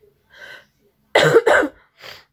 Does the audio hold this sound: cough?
yes